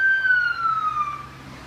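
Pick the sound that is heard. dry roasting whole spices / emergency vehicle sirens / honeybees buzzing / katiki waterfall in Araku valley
emergency vehicle sirens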